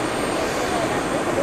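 A purple Fuji Dream Airlines airliner, registration JA06FJ, approaches Niigata airport with a steady, loud, broad engine roar that fills the short moment.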